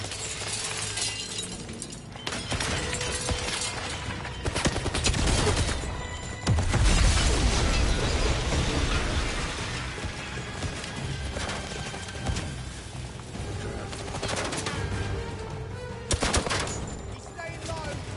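Video game 007 First Light plays dense gunfire bursts and crashing explosions across the stretch, loud and continuous with several heavy blasts, while a player talks over the action.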